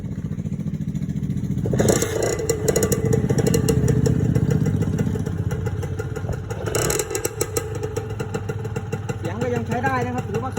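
A Suzuki FSX150 motorcycle engine in stock condition runs loud and close, idling with a steady rumble and revving up twice before settling back down.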